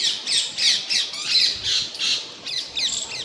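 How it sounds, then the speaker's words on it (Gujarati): Two perched parrots squawk in shrill, harsh calls, about ten bursts in a steady rhythm, loud and close with no talking. "બે પોપટ આટલા બેઠા છે"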